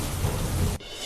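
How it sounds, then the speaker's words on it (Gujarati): Heavy rain pours down in a storm with thunder and strong wind in Narmadapuram, Madhya Pradesh. A loud, dense roar runs continuously and then drops abruptly to a thinner hiss of rain. "ગાજવીજ અને તેજ પવન સાથે નર્મદાપુરમમાં ખાબક્યો વરસાદ"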